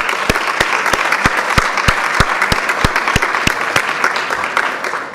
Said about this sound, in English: they deserve a hearty round of applause